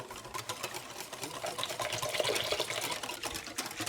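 Plain water, about 800 ml, gushes steadily into a cooking pan for onion pakora kadhi, a soft continuous pour heard fairly quietly and alone.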